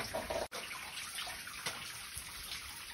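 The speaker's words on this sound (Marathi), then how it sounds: "तर फायनली आपण पाणी भरतो इथे" Steady broadband rush of water running from a tap, continuous and fairly close, with a brief dropout near the start and no voices.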